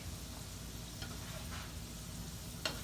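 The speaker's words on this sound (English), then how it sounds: "These don't take long to fry at all, y'all." Crawfish frying in hot oil for Cajun spicy crawfish pasta, a steady close sizzle and crackle running throughout with a few brief sharper pops, no voices.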